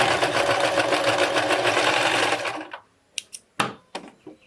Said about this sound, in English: I'll be stitching